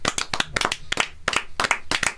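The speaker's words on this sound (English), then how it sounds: "I'm clapping anyway" A small group claps together in a steady, lively burst of overlapping hand claps, close and fairly loud, with no talking.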